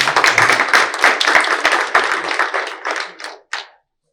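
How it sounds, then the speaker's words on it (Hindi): A literature festival audience claps and applauds close by in a dense burst that thins out and ends with a few last scattered claps. "राजेश यादव जी के सम्मान के बाद तालियां बजा सकते हैं।"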